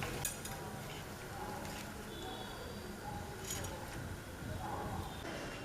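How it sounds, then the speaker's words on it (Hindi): Noodles deep-frying in hot oil for street-style Chinese bhel give a continuous bubbling sizzle, with occasional metallic scrapes and clinks as they are turned, while someone talks quietly over it. "बीच में पलटते हुए नूडल्स को हम गोल्डन ब्राउन होने तक फ्राई कर लेंगे।"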